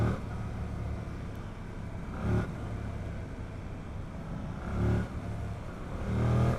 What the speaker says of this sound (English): this airbox sound, it's kind of addicting. So I just ride around, throttle, just to hear the sound